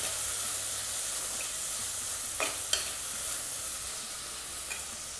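Curry leaves sizzling and frying in hot oil in a clay pot, a steady crackling hiss with a couple of brief stirring scrapes midway.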